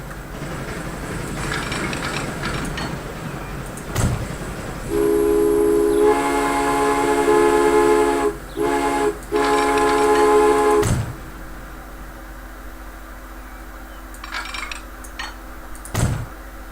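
Trains running in the Transport Fever video game, with a sustained horn blast in the middle and sharp clunks and rolling rail noise around it, loud and close with no talking.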